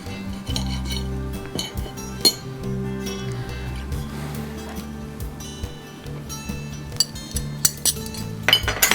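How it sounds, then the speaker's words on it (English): Knife and fork clinking against a plate while eating a BBQ pulled pork pizza on an egg white bread crust, with repeated close, sharp metallic clinks and scrapes in an irregular rhythm and no talking. "I'm going to grab a knife and fork and give this a bite"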